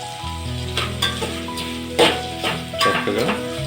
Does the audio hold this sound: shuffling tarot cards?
no